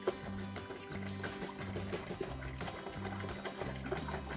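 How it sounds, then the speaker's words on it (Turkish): Five litres of drinking water poured into a basin for pickling, a continuous faint splashing and trickling stream with a soft, slightly pulsing rhythm. "Şöyle 5 litre suyumuzu boşaltıyorum leğenimize"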